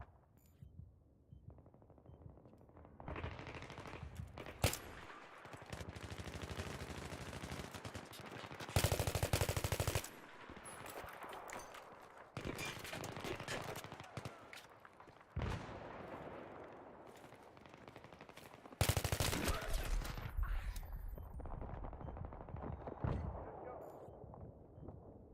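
Gunfire in Battlefield 3 crackles in dense rapid bursts, with bright sharp volleys that flare and die away and long stretches of continuous shooting, loud and close under a busy game soundscape.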